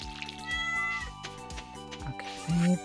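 Cat meowing in the Stardew Valley video game, short meows over game music with plucked tones, ending in a louder tonal blip.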